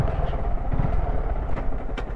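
A Yamaha MT15 motorcycle engine runs steadily at close range, most likely idling while parked on a ride through Spiti. A low continuous rumble holds throughout with a couple of brief sharper noises.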